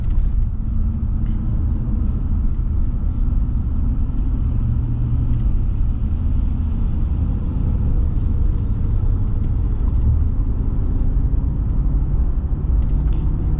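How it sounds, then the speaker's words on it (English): A 2026 Ram Tradesman Power Wagon V8 runs while driving, a steady low smooth rumble heard from inside the cab with road noise, continuous and even throughout, with no talking. "V8's very smooth."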